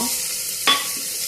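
Crushed garlic dropped into hot oil already holding dried red chillies, green chillies and curry leaves, giving a steady close sizzle of frying with a brief louder burst as it goes in.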